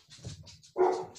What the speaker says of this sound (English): there's barking